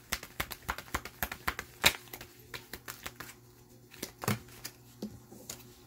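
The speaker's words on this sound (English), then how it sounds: "your two cards fell out back to back as I was shuffling." Tarot cards being shuffled, a dense run of crisp riffling snaps and flicks through the first half, then sparser single card slaps toward the end, close and fairly quiet with no talk.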